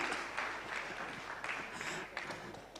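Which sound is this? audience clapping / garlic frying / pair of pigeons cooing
audience clapping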